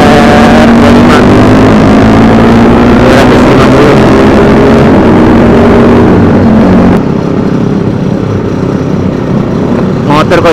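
A Kawasaki Ninja RR motorcycle engine drones loud and steady while riding, with heavy wind rush over the microphone. The tone drops slightly partway through as the throttle eases.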